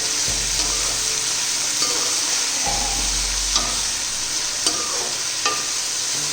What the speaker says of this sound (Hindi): अब मैं घी में इसको इतना फ्राई करूंगी कि ये गोल्डन ब्राउन हो जाए।